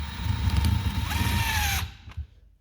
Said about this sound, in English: To speed up the process, I will slightly tighten with the DeWalt